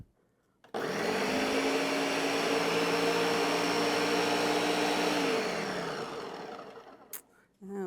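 Countertop blender whirring loudly and steadily for about five seconds as it emulsifies a salad dressing of oil, liquids and mustard, then winding down to a stop in a kitchen.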